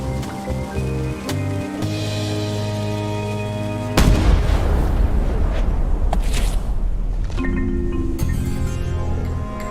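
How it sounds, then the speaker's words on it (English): Ship cannons fire in the pirate adventure game Return to Monkey Island: after a stretch of game music, a loud, booming blast erupts and leaves a long, rumbling roar that trails off while the music carries on. "Ready for cannon firing."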